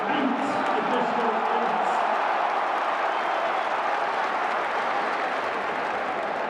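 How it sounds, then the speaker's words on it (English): A stadium crowd at a Norwich City versus Middlesbrough EFL Championship match roars steadily with applause and cheering, loud and sustained throughout. "Big roar from the crowd."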